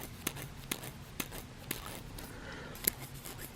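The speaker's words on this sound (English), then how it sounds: "2500 grit is a small burr, and you can hear that clicking as it hits it and stops." A knife edge sharpened on 2500 grit drags its small burr across paper, making sharp isolated clicks spaced irregularly, about half a dozen, close and faint over a soft hiss.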